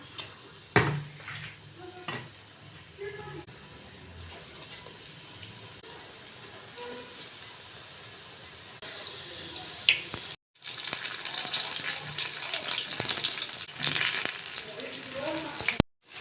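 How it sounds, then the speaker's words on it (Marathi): Chili pepper fritters (mirchi bhaji) dipped in gram flour batter frying in hot oil, a steady sizzle that swells into a louder, bubbling crackle partway through, close up, no talking. "मिरची पिठामध्ये बुडवून अशी तेलात सोडून घेऊया"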